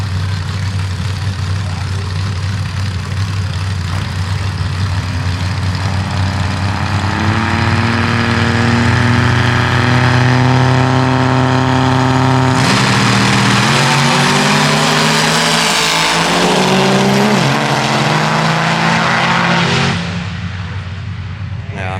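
A full-blown S10 diesel drag truck races a 6,800-pound third-gen truck at MO-KAN Diesel Drags, loud engines roaring and building in pitch, then surging hard before fading near the end.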